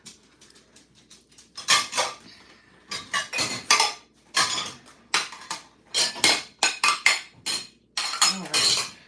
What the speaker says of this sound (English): I'm gonna start putting these dishes away